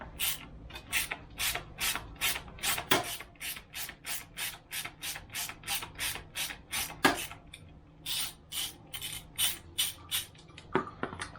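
A 12 mm wrench ratchets on the expansion pipe bolt of a Yamaha PW50, rapid regular clicking strokes repeated steadily, close and fairly quiet.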